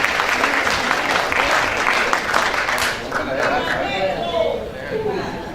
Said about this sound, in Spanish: Un aplauso a nuestro camarada defensor de la revolución.